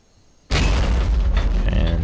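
A tank cannon fires in a wartime strategy game, a sudden loud boom out of near silence that rolls on as a sustained rumbling blast.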